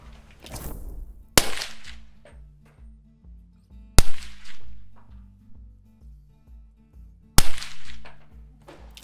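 Three sharp .300 Blackout rifle shots from a SIG Sauer rifle loaded with Fiocchi 147-grain cartridges ring out at slow, uneven intervals, each a loud crack followed by a decaying echo, with faint low hum in between.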